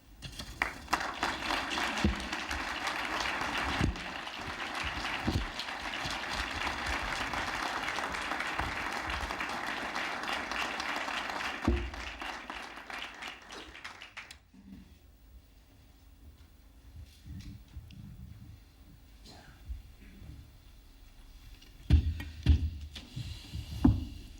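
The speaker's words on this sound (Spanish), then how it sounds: "Profesor, 500 años de historia os aplauden." Audience applause at an honorary doctorate investiture ceremony, sustained hall-filling clapping for about twelve seconds that then drops away to quiet room noise with scattered later sounds.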